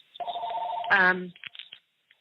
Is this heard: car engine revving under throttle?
no